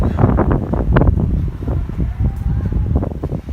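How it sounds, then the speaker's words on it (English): Strong gusting wind buffets the microphone with loud, rumbling low-end blasts that rise and fall throughout, no voices over it. "it is actually indeed being a bit windy"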